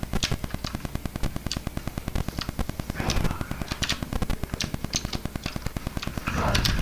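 Rapid automatic gunfire from a horror video game, dense close bursts of shots firing continuously, with a short pause and louder rattle near the end, under faint talking.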